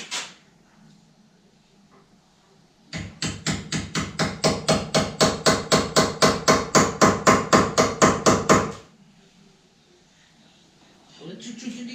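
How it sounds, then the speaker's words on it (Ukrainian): About thirty steady, evenly spaced hammer blows, loud and close, knocking a bearing off the traverse of a steering column on a T/A 600 motorcycle, with brief talk before and after. "Пошипничка сюди збить з траверси."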